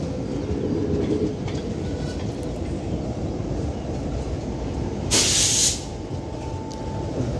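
A goods train rumbles past at Botad junction, a steady low rolling roar heard from a moving passenger train, with a brief sharp hiss burst partway through.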